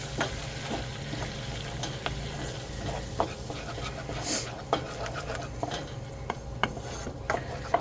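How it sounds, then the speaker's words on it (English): Flour being stirred into a cooking mixture in a pan, a soft scraping and gentle sizzle with occasional spoon taps against the pan, quiet and close, with faint talk in the background. "Stir this, mix this in."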